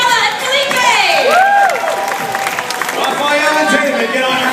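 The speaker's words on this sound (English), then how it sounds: "Let's get a round of applause for Isabella and Felipe!" A crowd at a Fear Factor–style stunt event for FSU applauds and cheers volunteers Isabella and Felipe, steady clapping mixed with shouts and whistles, loud and close, with voices calling out over it.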